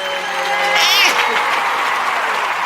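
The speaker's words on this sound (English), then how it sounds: "Can I get a round of applause?" Audience applause breaking out in a studio setting, a steady wash of clapping that rises around the first second and carries on, with a voice heard over its start.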